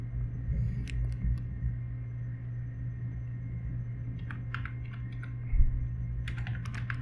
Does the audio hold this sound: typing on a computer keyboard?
yes